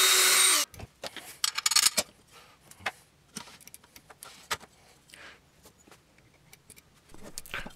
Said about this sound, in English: then I mark and drill a hole so I can mount the electronics to the foot pedal